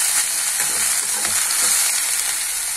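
Okra frying in a pan over a high flame gives off a loud, steady sizzle with a soft scrape or two of stirring beneath it, close and continuous.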